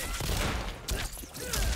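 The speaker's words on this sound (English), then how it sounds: "That is the close grenade" Close grenade explosion from Stryker's kameo in Mortal Kombat 1, a sharp blast amid a dense, busy rumble of fight effects, heard in under two seconds.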